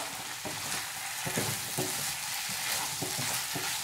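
Soy paneer masala (tofu and peas) stirred in a hot pan: continuous sizzling with repeated scraping strokes of the spoon at a steady rhythm, close by and without talk.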